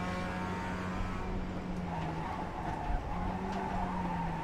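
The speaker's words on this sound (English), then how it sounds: "I like the curb sounds in iRacing." A race car in the iRacing sim runs over curbs: a steady engine drone with rumbling, juddering bursts as the tyres ride the kerbs, continuous and close.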